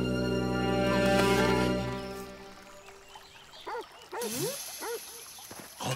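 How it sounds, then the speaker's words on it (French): A cartoon dog's barks and yips in an animated children's show, several short bursts following a loud sustained musical tone that fades out. "C'est le chien."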